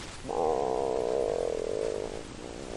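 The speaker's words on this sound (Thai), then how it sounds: "ชายผู้นี้กำลังหิวจนท้องไส้ส่งเสียงเตือน" A low, drawn-out rumbling growl of a hungry stomach with a gurgling texture, rising abruptly and holding steady for about two seconds before fading out.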